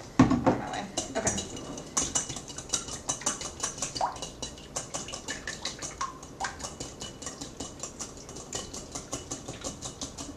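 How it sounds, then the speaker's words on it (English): A whisk beats an egg mixture in a bowl, making quick, steady metallic clicks and scrapes against the bowl that repeat close by for the whole stretch. "you want to get your whisk, and you want to whisk it together until it's mixed"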